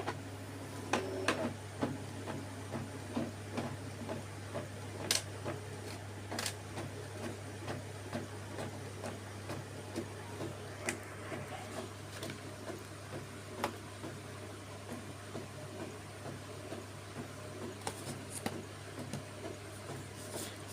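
An Epson L5190 inkjet printer runs through a copy with a quiet mechanical hum. Irregular ticks and clicks from the paper feed and print head come and go for about twenty seconds, with no voices.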